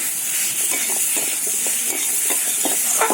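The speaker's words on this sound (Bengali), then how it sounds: "কেটে রাখা আলুটাকে দিয়ে দেব আলুটাকে দিয়ে মশলার সাথে আরও আমি দু মিনিট মতো কষে নেব" Cubed potatoes frying and being stirred with spices in a pan: a steady close hiss of oil with repeated scraping and stirring strokes throughout.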